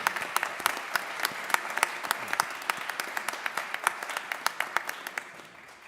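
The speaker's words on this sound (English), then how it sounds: "Please give them a round of applause." A crowd at an annual council meeting applauds steadily, with sharp individual claps standing out over the patter, slowly fading toward the end.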